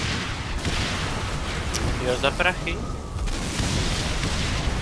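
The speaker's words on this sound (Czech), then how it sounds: "Odkud mě střílí?" Gunfire and explosions from the Saints Row IV video game form a dense, continuous roar of rapid bursts, with people talking over the action.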